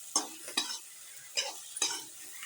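Cooked bitter gourd sautéing in a pan: a soft, quiet sizzle punctuated by four brisk scraping strokes of a spoon, close and irregularly spaced over a couple of seconds.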